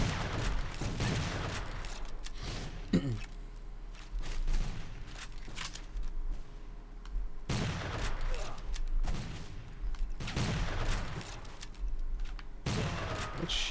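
Bursts of video game gunfire aimed at the player in a Civil War battle, with volleys of rapid shots recurring every few seconds and quieter gaps between them, moderately loud.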